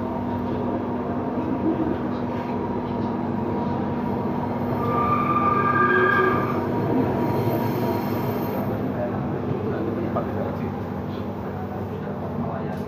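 An LRT train in Palembang rolls into Jakabaring station, a steady rumble and hum throughout with rising wheel squeal and tonal whine near the middle, swelling slightly around the six-second mark before settling back.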